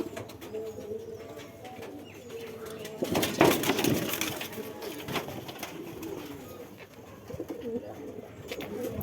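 Domestic pigeons in a loft, with a layer-type bird nearby about to lay eggs, cooing and rustling in a steady mix at close range with a busier burst in the middle, no talking.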